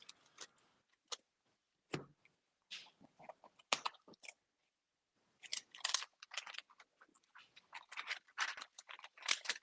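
Playing cards being shuffled by hand at a tabletop game playtest, bursts of quick riffling and flicking clicks in irregular clusters separated by short pauses, close and fairly quiet.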